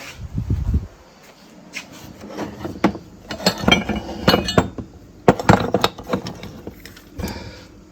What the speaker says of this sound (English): I'm just going to drop my parts in there.